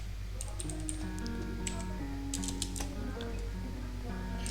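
Computer keyboard keys clacking in rapid, irregular bursts at close range while playing GTA V on a FiveM server, set against steady background game sounds and music.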